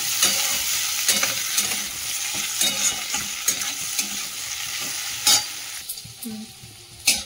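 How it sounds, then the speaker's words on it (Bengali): Potatoes and onions fry in a pan with salt and turmeric under a steady, close sizzle, broken by frequent clattering scrapes and knocks of a spatula stirring them. "আলু পেঁয়াজটা ভালো করে ভেজে নিই"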